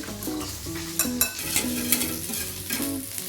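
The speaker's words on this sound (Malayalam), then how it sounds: "ഇപ്പം എന്നാൽ നമ്മളെ പാൽപ്പൊടി അടുപ്പത്ത് വെച്ചിട്ട് ഇങ്ങനെ തിളക്കാനായിട്ടുണ്ട് കേട്ടോ ഒന്ന് അടക്കിക്കൊണ്ടിരിക്കണേ" Milk powder mixture for eggless custard pudding stirred in a pan on the stove, a continuous scraping swirl with soft sizzling and occasional light clinks of the spoon, close and loud.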